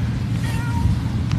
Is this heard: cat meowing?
yes